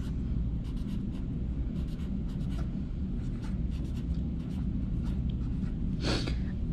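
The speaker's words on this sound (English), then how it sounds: "I can try to write running shoes." Handwriting on a letter to Santa, spelling out the words for a wish, with a pen or pencil scratching across paper in short repeated strokes, close and steady over a low background hum.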